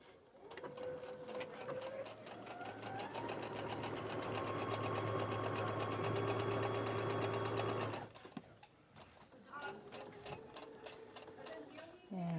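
A home sewing machine stitches along the edge of zipper tape in a steady, close, continuous run for several seconds, then stops abruptly, followed by quieter handling sounds.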